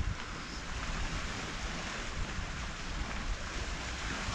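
Sea waves lap against the rocks below a clifftop near Palmanova, Mallorca, on a hazy evening, heard as a steady, fairly faint wash with soft breeze, continuous throughout with no talk.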